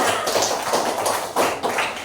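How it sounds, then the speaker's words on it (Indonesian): Children in a classroom clap their hands together, a quick run of brisk, uneven bursts close by, with no talking. "Tepuk tangan semuanya"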